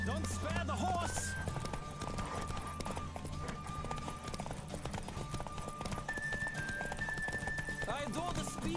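Racing horse in The Witcher 3 game gallops with quick continuous hoofbeats throughout, mixed with game music and people talking.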